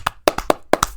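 A few people clap for a man named Carlos, giving a brief, sparse patter of about six claps within one second, close and fairly loud, with no voices.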